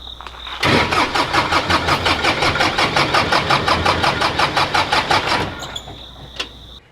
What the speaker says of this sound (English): this morning, we tried to start up the skid steer once again